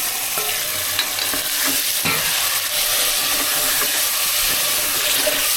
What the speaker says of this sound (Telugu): ఇప్పుడు కడిగి పెట్టుకున్న చికెన్ వేసేసుకుందాము.